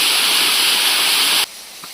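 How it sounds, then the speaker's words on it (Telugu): Loud continuous roar of the Punyagiri waterfall near Srungavarapukota, Andhra Pradesh, that cuts off abruptly near the end, leaving quiet with a faint tap. "ఇది అంది ఎస్కోట దగ్గర ఉన్న పుణ్యగిరి వాటర్ ఫాల్"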